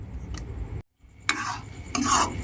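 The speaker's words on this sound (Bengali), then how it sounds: "তাই গ্যাসের ফ্লেমটা অবশ্যই লো ফ্লেমে রেখে এইভাবে নাড়াচাড়া করবেন" Hair oil in a pan over a low gas flame is stirred with a utensil, making short scraping strokes under a faint sizzle, with a brief silent gap and then several louder scrapes close up.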